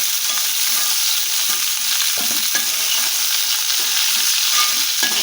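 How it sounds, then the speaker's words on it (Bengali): Cauliflower florets frying in hot oil in a home kitchen, a steady, loud broadband sizzle with occasional stirring scrapes, continuous throughout without speech. "এখানে কপিগুলো আমার ভাজা হয়ে গেছে"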